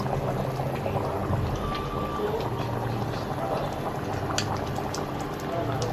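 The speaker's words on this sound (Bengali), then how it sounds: "কি সুন্দরভাবে খলবলিয়ে ফুটছে। এই খলবলনাটা দেখতেই ভালো লাগে, আর এত সুন্দর আওয়াজ।" Beef curry boiling vigorously in a covered home pot, a steady bubbling, gurgling simmer heard close and continuous throughout, with faint background noise.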